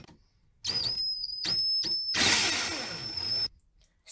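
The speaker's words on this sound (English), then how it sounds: "So now we're going to use this drill to screw it in place." A power drill drives screws to mount a new 15 amp receptacle with dual USB charger ports, giving close, loud bursts of high whine that stop and start, then one longer run.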